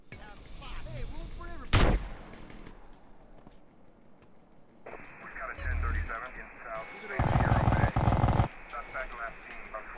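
Gunfire in GTA San Andreas comes as a loud single blast, then bursts of rapid shooting and explosive booms later on, mixed with game sounds and someone talking throughout.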